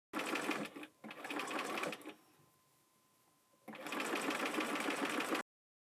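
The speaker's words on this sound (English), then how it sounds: "I think I'm still going to try to sew a little channel for the casing" A sewing machine runs a casing channel along the edge of a fabric bag in two close, steady bursts separated by a quiet pause, with no speech.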